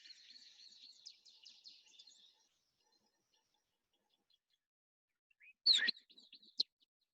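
A striped pipit calling in the southern Kruger bushveld: a faint run of high, rapid chirping notes, then a pause and a brief burst of sharper, slightly louder call notes.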